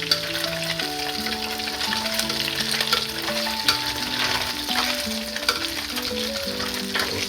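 Fish frying in hot oil gives a continuous crackling sizzle with scattered pops, lively and close throughout, while music plays underneath.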